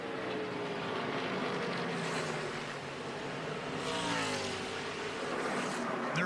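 ARCA race cars on the final lap, a distant engine roar that rises and falls with pitch sweeps as cars pass, heard at a moderate level with no talk.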